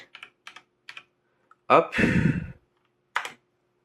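Keys clatter on a Logitech G413 SE mechanical gaming keyboard in a few short bursts with a longer rattling stretch in the middle, close and clear, and a brief spoken word.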